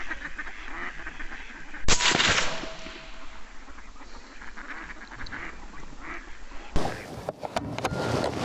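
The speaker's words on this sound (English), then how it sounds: "the ducks all like kicked off on the pond" Several ducks on a pond break into loud quacking nearby, a burst at first then a noisy flurry near the end, with quieter outdoor background between.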